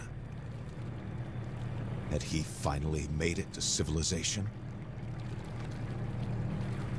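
A boat engine in the video game Kona II: Brume drones steadily at low pitch throughout, while someone narrates over the middle stretch.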